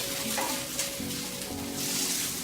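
Tuna patties frying in a new smooth pan give a steady, dense sizzle with faint crackles throughout, close and even, with no talking.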